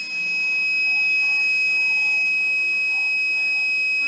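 A steady high-pitched electronic alarm tone from a crane swing-detection system sounds continuously, fairly loud, with a faint background hum and no talking.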